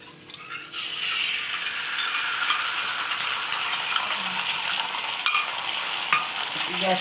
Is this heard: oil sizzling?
yes